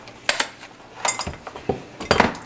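Utensil beating peach bread batter in a bowl, a series of clinking, scraping strokes against the bowl, spaced in irregular bursts at close range, with no talking.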